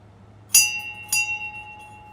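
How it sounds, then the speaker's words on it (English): A bell struck twice, a bright sharp ring followed by a sustained tone, then a second slightly softer strike about half a second later that rings on and fades, close and clear over a faint low hum. "I have to hit the bell for that one."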